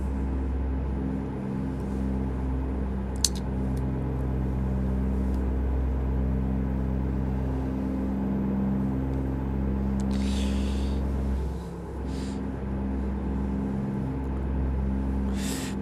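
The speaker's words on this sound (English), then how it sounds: "compared to last stream, the engine sounds a little bit different" A truck engine in American Truck Simulator drones steadily throughout, low and even, with a couple of brief clicks and a short burst of higher noise midway.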